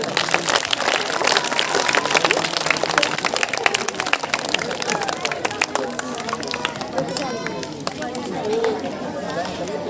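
A school farewell ceremony audience claps loudly, a dense burst of many hands that gradually thins and fades, with crowd chatter and voices underneath.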